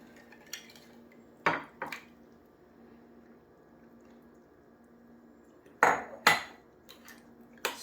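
A utensil stirs refrigerator pickle brine in a container, giving faint liquid swishes and several sharp clinks against the side, scattered irregularly over a quiet background.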